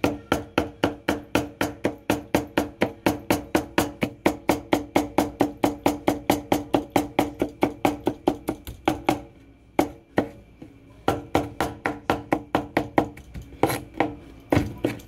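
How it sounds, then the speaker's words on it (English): A knife dicing tomato into small pieces for an octopus salad, striking the cutting board in a fast, even rhythm of sharp close chops that pause briefly near the end before resuming at the same pace. "And then I'm cutting them into little diced pieces."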